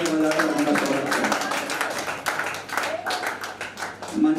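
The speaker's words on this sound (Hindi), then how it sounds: "आप लोग जोरदार तालियां बजाकर उनका स्वागत करें" An audience claps to welcome a guest at a stage event, dense patter running steadily throughout while a voice speaks over it.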